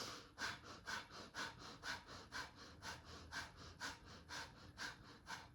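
Fire breaths in a rapid breathing exercise: a steady run of about a dozen quick, forceful, rhythmic breaths, close and fairly quiet.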